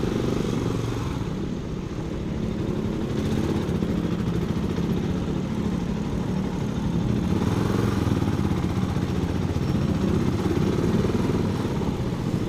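A big cafe-style 400 motorcycle engine runs steadily and loudly at close range, a continuous low rumble with no noticeable change in pace.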